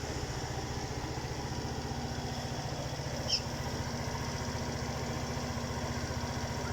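An RKS Bolero 50cc scooter engine idles with a fast, even putter, fairly quiet and steady throughout, with no voices.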